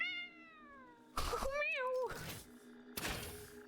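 A drawn-out meow followed by a second wavering meow, with a few dull thumps and noisy bursts around them, close and fairly loud.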